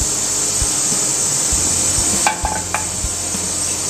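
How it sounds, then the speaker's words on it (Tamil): Oil heating and spreading across a hot frying pan for egg gravy, a steady close sizzle with a few light clinks of utensil against the pan. "இந்த ஆயில் எல்லா இடம் படுற மாதிரி நல்லா ஸ்ப்ரெட் பண்ணி விட்டுக்கோங்க"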